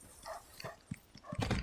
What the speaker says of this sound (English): Aggro the dogs so we can just take them out.